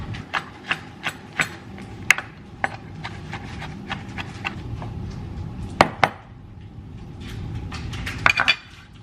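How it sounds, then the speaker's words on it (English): Knife cutting up leftover vegetables on a kitchen board, a series of sharp, separate taps and clicks at an uneven pace, close and fairly clear, with faint clinks of utensils in the background. "I'm gonna go ahead and cut these up and toss them in as well."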